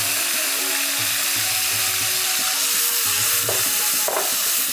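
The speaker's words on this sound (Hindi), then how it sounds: "ये हमने इसमें अभी इसमें पेस्ट डालेंगे, इसके अंदर भुनाई करेंगे अच्छे तरीके से" A paste of coriander, green chilli and garlic fries in a pan with a steady, close sizzle, mixed with scraping and stirring from a utensil and occasional sharper clinks.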